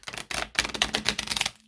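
Tarot cards shuffled by hand in a series of crisp, rapid riffling bursts with brief pauses between, close and fairly loud, no talking.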